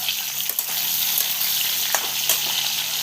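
Boiled jackfruit fries in a pan and gives off a loud, steady sizzle. A few scraping knocks from stirring come through near the middle and end.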